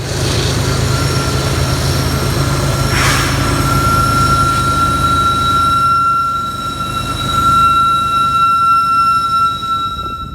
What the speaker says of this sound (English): these trains going up Cajon Pass here, you can really hear the engines just chugging